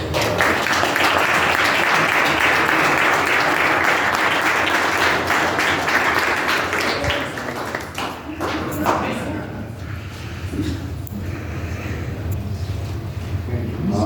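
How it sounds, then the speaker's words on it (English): A room full of people at a city council meeting breaks into loud, dense applause that rolls on steadily, then thins out and fades into murmuring and a few scattered claps. "Let's give them a round of applause."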